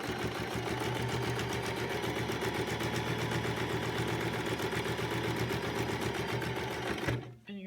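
A sewing machine stitches close along the fabric edge of a cloth COVID-19 mask, a fast steady mechanical hum with rapid needle ticking that runs loud and close, then stops abruptly near the end.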